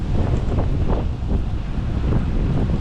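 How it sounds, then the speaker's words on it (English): Strong, gusty wind buffets the microphone while riding a Specialized Creo e-bike, a continuous loud low roar with surging rushes and no talk. "Really windy, really quite gusty."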